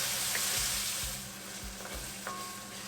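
Onions cooking down in a pan, a faint continuous sizzle with soft low thumps and scrapes of stirring at regular intervals.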